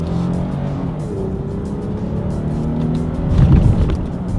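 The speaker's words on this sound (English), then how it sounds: "let's go ahead and do a quick little paddle shifter test first to see how quickly these paddle shifters react" A 2020 Lexus RX 350 F Sport engine revs up through paddle-shifted gear changes, heard from inside as a loud, steady hum that climbs in pitch, drops at a shift, then surges again.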